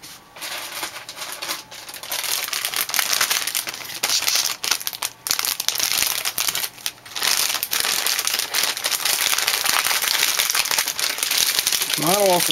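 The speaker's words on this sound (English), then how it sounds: "Removing the trays from the plastic." Plastic wrapping crinkles and rustles loudly and continuously, close up, as trays from a 1/100 Master Grade Force Impulse Gundam model kit are pulled free, with brief pauses between handfuls.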